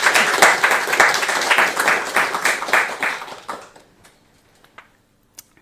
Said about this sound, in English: You can clap for the videos